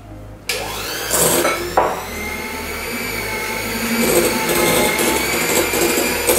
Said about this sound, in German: Und da darfst du jetzt schon anfangen zu rühren, auf kleinster Stufe langsam rühren.